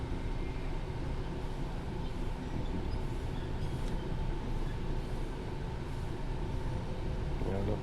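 A train departing a station on the London Commuter route in the Train Sim World 3 video game, a steady loud rumble of wheels and engine running throughout without pause.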